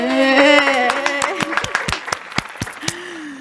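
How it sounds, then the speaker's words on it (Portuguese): A talk-show studio audience applauds two guests as they arrive. A voice is heard at first, then scattered, sharp individual claps ring out at an uneven pace and thin out toward the end. "Então recebam com muitos aplausos a doutora Raquel Galinatti e Ana Paula Gimenez."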